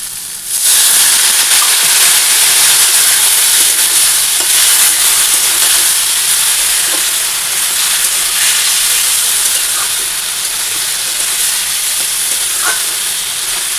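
Cumin powder hits a hot frying pan and sizzles loudly, a strong, steady hissing fry that starts abruptly and holds for many seconds with slight fading, close and free of talk.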